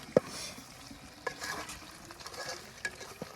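Meat curry is stirred in a large cooking pot, with scraping spoon strokes against metal over a soft sizzle, a few sharp clanks standing out close by with no talking.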